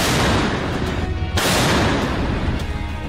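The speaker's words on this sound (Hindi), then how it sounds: "जर्मनी की ये तोप यूक्रेन में रूस की फौज पर कयामत बनकर टूट रही है।" A German PzH 2000 155 mm self-propelled howitzer fires in the war in Ukraine. Loud, dense booming blasts and rumbling fill the whole stretch, with a sharp new report cutting in partway through.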